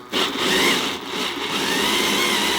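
A power drill bores upward through the wooden subfloor of a van under construction, a loud continuous whining grind held close with slight dips in pitch as the bit bites.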